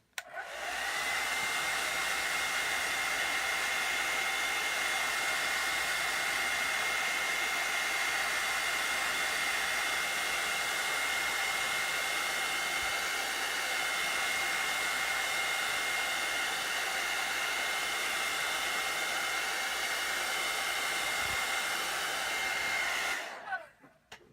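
A hair dryer blows on a watercolor painting, a loud, steady whirring roar held close for over twenty seconds, then switched off.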